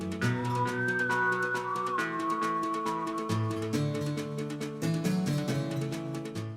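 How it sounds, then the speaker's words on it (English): Western-style video game music from Twilight Princess, a whistled melody over twangy plucked backing, steady and full throughout with sustained tones and rhythmic strums. "down to the music with its whistled melody and twangy backing instrumentation"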